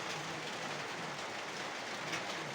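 Rain pouring onto a tin roof during a storm in Niamatpur, Naogaon, heard as a dense, steady hiss of drumming drops, loud and close throughout with no voices.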